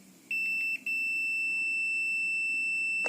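A digital multimeter's continuity tester beeps: a steady, piercing electronic tone starts abruptly, breaks briefly after half a second, then holds on continuously and loud, with no talking.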